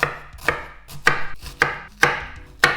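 A knife cuts slits into an onion on a cutting board, six crisp, evenly spaced chops about half a second apart, close and clear, with no talking.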